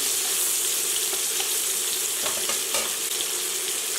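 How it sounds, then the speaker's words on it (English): Shrimp sizzle and fry in a hot pan, a dense, steady crackling hiss with a few light stirring clicks, heard close and without talk. "the next step that we have to do is to fry up here our shrimp."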